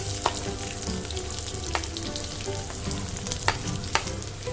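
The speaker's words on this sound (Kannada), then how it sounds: "ಈರುಳ್ಳಿ ಬೇಗ ಫ್ರೈ ಆಗುತ್ತೆ, ಸ್ವಲ್ಪ ಸಾಲ್ಟ್ ಹಾಕೊಳ್ಳಿ." Onions frying in a pan, a dense continuous crackling sizzle close up with occasional sharper pops and light stirring scrapes, steady throughout with no talking.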